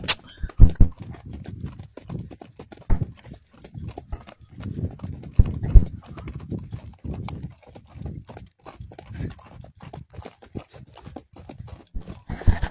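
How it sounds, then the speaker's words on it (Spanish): Horse hooves clip-clop through an afternoon horseback ride at El Portillo in Jujuy province, with an uneven, continuous run of close hoof strikes of varying loudness and no talking. "Nosotros acá disfrutando la tarde a caballo en el Portillo, en la provincia de Jujuy."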